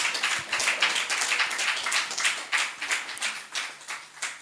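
A small audience at a magazine-show event claps to welcome a young female guest, producing sparse, distinct, fairly close claps in an uneven rhythm that gradually thins out.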